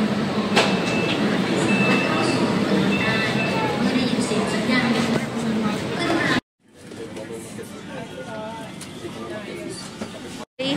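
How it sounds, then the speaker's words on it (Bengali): Bangkok BTS Skytrain at Siam station: a continuous rumbling train noise with people talking, cut by a sudden drop to a quieter interior hum partway through. "এই হচ্ছে ব্যাংককের স্কাই ট্রেন।"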